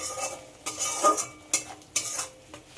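A spice paste with salt and turmeric being stirred and sautéed in a pan, with soft sizzling under a series of distinct scraping and knocking strokes of a utensil against the pan.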